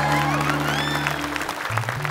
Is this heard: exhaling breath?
no